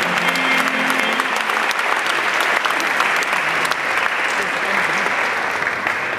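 Audience applause at a live show by the accordion orchestra Harmonikarski orkester Pustotnik, honoring Narodnjak and their colleague Aleksander Mrdič: dense, steady clapping from a large crowd, loud and sustained throughout.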